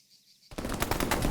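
Rapid machine gun fire in the military video game ARMA 3 breaks in after half a second of near silence, a loud, dense burst of repeated shots continuing to the end.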